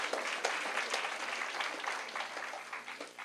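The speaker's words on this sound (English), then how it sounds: "Could we all give him one more round of applause?" A storytelling festival audience applauds a young storyteller, giving a brief, fairly faint burst of crowd clapping about three seconds long, dense and distant-sounding, with no voices over it.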